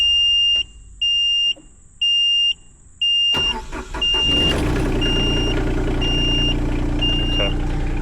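Takeuchi TB216 mini excavator started with the ignition key: a few short repeated warning beeps, then the diesel engine cranks and catches, settling into a loud, steady close-up idle with the beeping continuing over it.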